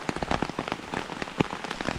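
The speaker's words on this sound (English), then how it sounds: "Just gonna chill till the rain blows over." Heavy rain drums hard on a tent cover during an Appalachian storm, a dense, close patter of irregular drops with no one speaking.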